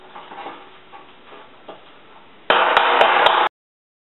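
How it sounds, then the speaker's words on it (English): Several quick metallic taps of an old rounded-point hammer working dents out of a Triumph TR6 car panel, loud and close, after a stretch of quieter workshop noise. "using my buddy's dad's old school hammer, but it's got a nice rounded off point here"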